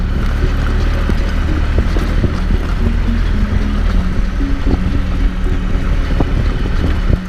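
A tractor engine runs steadily during a ride through a closed private country park, a loud, constant low mechanical rumble with a droning hum and no pauses.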